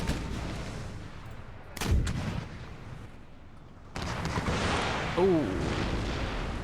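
Organ guns firing in a battle in Empire Total War, with a sharp, booming volley near the two-second mark and further rumbling gunfire later in the clip. A voice briefly exclaims over the sound.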